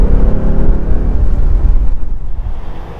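A 2021 Ford Mustang GT Premium convertible with a V8 and manual gearbox, its engine giving a loud, deep, throbbing rumble close by that holds steady and then eases slightly toward the end.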